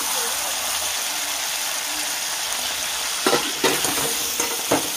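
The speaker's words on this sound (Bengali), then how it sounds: "মাংসটা ভাজা হয়ে গেছে, এবার টমেটোটা দিয়ে দেবো" Meat frying in a pan for pulao gives a steady, close sizzling hiss, with several sharper scraping stirs near the end and faint voices underneath.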